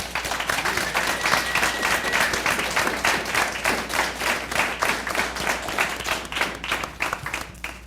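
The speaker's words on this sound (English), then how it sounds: "what you can get is applause" An awards-ceremony audience claps for the recipients, with dense sustained applause of many hands, fairly loud and unbroken from start to finish.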